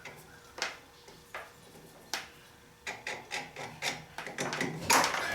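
A copper part is sanded by hand to fit a bearing, heard as close, dry rasping strokes that start sparse and then come in a quicker, steadier rhythm, with no speech.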